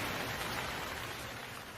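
Heavy rain in a cartoon pours as a dense, steady hiss with no gaps and no voices.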